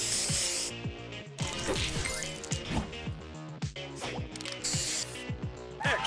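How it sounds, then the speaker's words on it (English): Spray booster effect in the Knockout Color Crush game: a busy run of clattering, ratchet-like mechanical bursts and hissing spray, loud and continuous for several seconds, with music underneath. "Spray on!"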